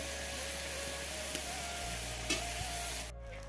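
Steady frying hiss of leftover cooked rice in a pan with occasional scrapes of a spoon, continuous and fairly quiet, no voices.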